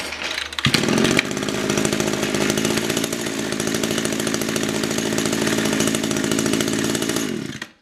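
An Echo string trimmer fitted with a new carburetor fires on the pull and runs at a loud, steady, buzzing high idle for several seconds before cutting off, close up and alone.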